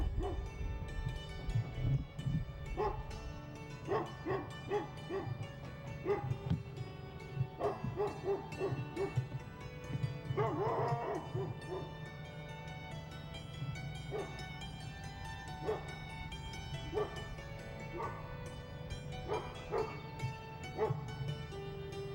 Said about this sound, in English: This dog will bite you.